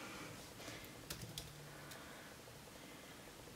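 Faint keystrokes on a computer keyboard, a short cluster of light clicks over steady low room noise, with no other sounds.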